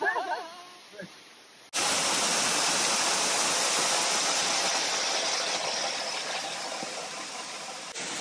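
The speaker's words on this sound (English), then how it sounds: "Welcome to the waterfall, guys." A hidden river waterfall at Pretty Close 876 in Jamaica roars as a loud, steady rush of falling water that starts abruptly after a few moments of quiet, lasting to the end.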